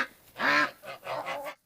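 Farm chickens on a homestead give a few close, loud squawking clucks in two bursts, the first strongest, with no talking over them.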